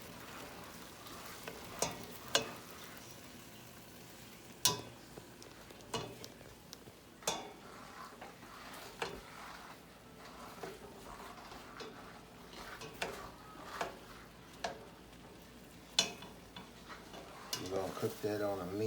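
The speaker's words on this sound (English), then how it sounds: "The onions is being cooked inside of the juice as well." Onions frying in stew juices in a pan are stirred repeatedly, a soft steady sizzle broken by irregular scraping clicks and knocks of the spoon against the pan, fairly quiet and close, without talk.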